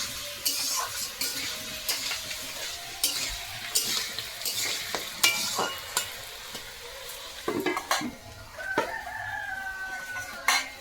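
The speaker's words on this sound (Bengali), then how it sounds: "এদিকে কড়াইতে কিন্তু আলু ভাজা হচ্ছে" Potatoes frying in a wok give a continuous sizzle with repeated scraping stirs and clinks, while a rooster crows in the background.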